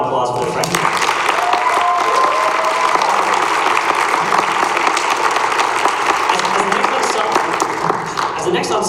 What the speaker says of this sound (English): let's give one more round of applause for the freshmen